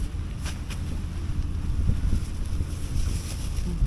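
Steady light wind at Old Doha Port, Qatar, at sunset rumbles and buffets the microphone, a constant low roar with faint hiss above, no voices.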